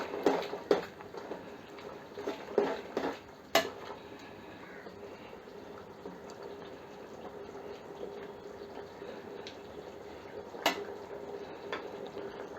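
A spoon clatters and scrapes against a pot while beef biryani with nutmeg powder and kasuri methi is stirred over a boil. Several sharp knocks come early and one comes late, over a low steady bubbling background.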